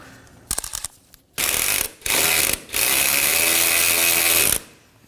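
A ratchet snugs down the lower mounting bolt of a coolant reservoir on a 2011 Dodge Durango 5.7L V8, giving a brief clicking start, then three loud, close whirring bursts, the last one longest.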